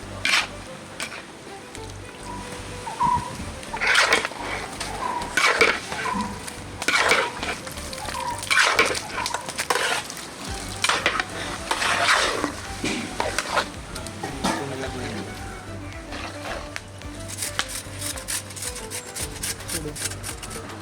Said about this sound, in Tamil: தயிருக்கு வந்து சோறை போட்டு மிக்ஸ் பண்ணி கொண்டு இருக்கோம்.